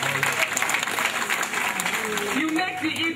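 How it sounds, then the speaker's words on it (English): Crowd at an Igbo cultural gathering clapping for the Igwes: steady applause at moderate distance, with voices and some tonal sound running underneath. "let's give a hand of applause for the Igwes"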